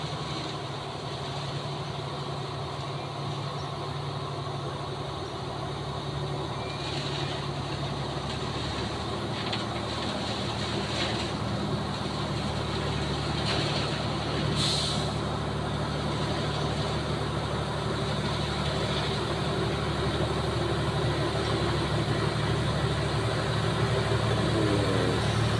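A truck on a western-southern Aceh route laboring uphill in low gear, a steady mid-level engine drone that barely changes over a long stretch, with faint background rustle and no talk.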